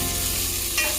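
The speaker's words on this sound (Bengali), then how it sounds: "কুচি করে রাখা আদা, কুচি করে রাখা রসুন আর পুরো কুচি করে রাখা পেঁয়াজ দিয়ে আমি 2 থেকে 3 মিনিট জাস্ট নেড়ে নেব।" Chopped ginger, garlic and onion sizzle steadily in hot oil in a pan while a spoon stirs them, with one brief scraping stroke near the end; close and continuous, no talking.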